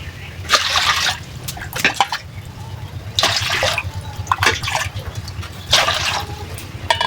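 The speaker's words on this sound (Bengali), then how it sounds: "আমি এখানে একটা হাঁড়িতে 4 কাপ পরিমাণ পানি দিয়ে দিব।" Water is poured into a cooking pot for a pulao, about four cups in all. It comes in three separate close splashing bursts with short pauses between them.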